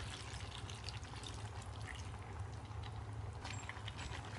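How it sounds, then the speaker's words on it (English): Vinegar being poured into a cooking pot for Filipino chicken and pork adobo with pineapple, a soft continuous liquid splash and trickle, quiet and steady with no talk. "Going to put in the vinegar."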